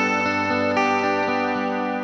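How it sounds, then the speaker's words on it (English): Electric guitar chords strummed and left ringing, drenched in maximum reverb time and effects level; several strums roughly every quarter second blend into a thick, sustained, echoing wash close to the microphone. "With the effects level right up and the reverb time right up."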